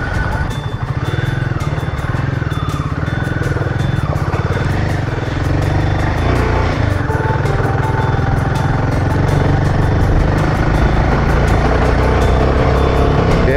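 A Royal Enfield Himalayan 450 motorcycle on stock tyres rides along a muddy lane, its engine a loud, continuous low drone that swells slightly as it climbs in first gear, with no voices.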